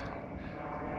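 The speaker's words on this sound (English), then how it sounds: "we do have an airplane going by" An airplane flies overhead outdoors, heard as a faint, steady engine drone with a low broadband rumble that persists evenly through the short moment, with no talking over it.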